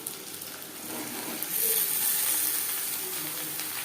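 Chillies frying in oil in a pan with cumin for a fish and summer-vegetable curry, a steady, soft sizzle that swells after the first second and holds, with no talking.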